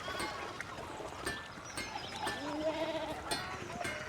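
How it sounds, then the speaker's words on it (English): Sheep bleat in a busy medieval town in the game Pentiment, a few wavering calls rising over a steady ambient bed of crowd and village noise. "Why are the sheep like in the middle of the town"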